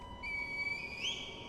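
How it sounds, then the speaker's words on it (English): A reed whistle blown in the video game Sekiro: Shadows Die Twice gives one sustained, clear high whistle that rises in pitch near the end, heard alone over low background ambience. "You use a reed whistle to call your master."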